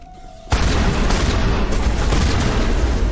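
Shotgun fire in the game Mass Effect Legendary Edition erupts after a brief quiet moment, becoming a loud, continuous barrage of booming blasts that fills the rest of the clip.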